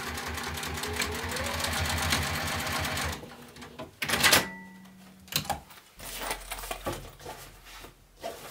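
A sewing machine stitches binding on a fabric pouch in a fast, steady mechanical whir for about three seconds, then stops and gives a short back-stitch burst amid quieter handling clicks and rustles.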